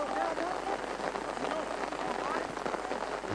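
Heavy rain pouring onto rain covers and umbrellas at an outdoor U18 football match, a steady dense hiss of drops throughout, with a commentator's voice faintly underneath.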